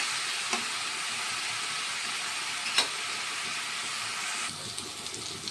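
Tomato paste fries in hot oil in a pan with a steady, close sizzling hiss and a couple of faint stirring clicks.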